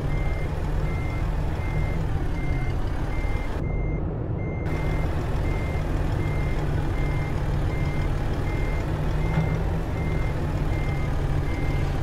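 A Volvo VNL 670 truck in American Truck Simulator reverses with a container trailer, its backup alarm beeping at a steady, even pace over a constant loud engine drone, with a brief dropout partway through.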